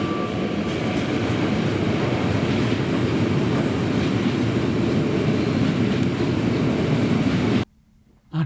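A Middle Germany RE3 regional train runs on the rails from Dresden, a loud, continuous rumble and rolling rattle heard from on board that cuts out abruptly near the end.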